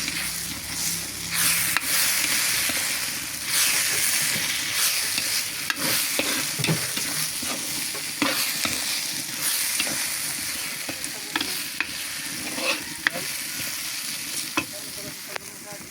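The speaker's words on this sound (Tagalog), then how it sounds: "Haluin na natin." Vegetables are stirred in a frying pan over steady sizzling, with scraping and clinking of the utensil through the whole stretch. The cooking is close and loud, and no one speaks.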